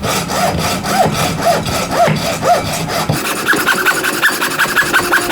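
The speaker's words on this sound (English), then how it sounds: "I'm cutting this one to about 13 millimeters" A handsaw cuts a rubber guitar bridge piece to length with steady, rhythmic back-and-forth rasping strokes, close and loud, the pitch of the strokes shifting partway through.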